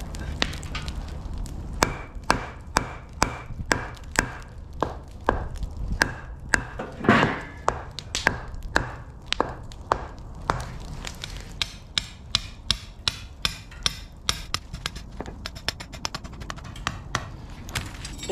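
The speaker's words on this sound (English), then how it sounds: "Pulled some rebar out of the scrap bin and just hammering one piece in front of each one to try to prevent them from sliding forward." Pieces of scrap rebar hammered into the ground, a steady run of sharp metallic strikes at a close distance, repeating about once a second for the full length.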